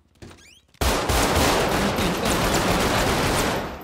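A quiet, near-silent start gives way abruptly to loud, sustained automatic gunfire in a GTA 5 roleplay firefight, a dense, unbroken rattle of shots that continues to the end.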